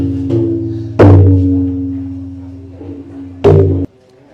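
A Thai klong aew drum is struck during a tuning test at a temple poy luang festival drum contest in Chiang Mai, with three deep, booming hits that ring out resonantly, the later two strong and sustained.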